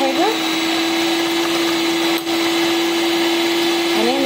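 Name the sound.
whipping Nescafe coffee with sugar to make foam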